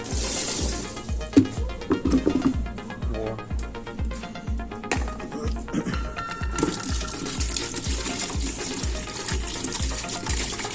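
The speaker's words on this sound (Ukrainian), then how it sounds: "Налем водички їм хай теж п'ють зразу." Fresh water is poured into a container for pet rabbits, a gushing, splashing pour heard close up over a background of rhythmic low thumps, steadier toward the end.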